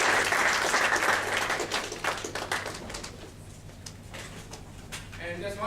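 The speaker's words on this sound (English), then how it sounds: "Please stand up and we have to clap for you" An audience in a meeting room claps for language coaches standing up: dense, loud applause at the start that thins out and fades to scattered claps toward the end.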